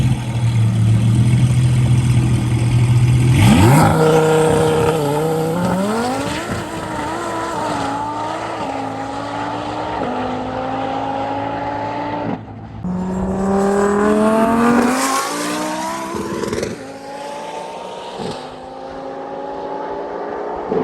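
A Lamborghini and a Rimac electric hypercar race past, loud and close, with rising whines and roaring acceleration sweeping up in pitch, a brief break, then another surge and sweep fading out.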